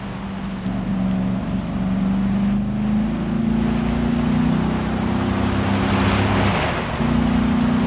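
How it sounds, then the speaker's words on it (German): In the Gran Turismo Sport racing game, a loud, steady engine drone plays while another car closes in from behind on the right. A rising rush of noise swells near the end, with no talking. "Ich höre in meinem rechten Ohr, dass hinter mir rechts ein Auto näher kommt"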